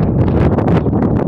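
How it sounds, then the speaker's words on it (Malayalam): Strong wind buffets the microphone on the misty summit of Villoonni hill, a loud, continuous blustery rumble with fluttering gusts and no voices. "നല്ല കാറ്റും കോടയും"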